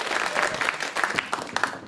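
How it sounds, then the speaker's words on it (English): Audience applause at a Bay Area street dance event fills the space, with dense clapping from a crowd that holds steady for a couple of seconds. "Yeah, you can clap for that."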